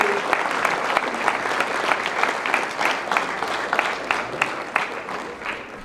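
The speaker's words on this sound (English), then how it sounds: "Please give a big round of applause for the renowned scientist, visionary, and Millet Man of India" A large indoor audience applauds steadily for a renowned scientist being welcomed on stage at a wellness talk in California, dense clapping filling the room at an even level throughout.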